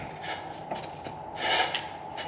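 A sheet metal floor patch for a 1970 Chevelle convertible is rolled back and forth through an English wheel, giving repeated soft rasping, rubbing passes with faint metallic ticks, close and without speech.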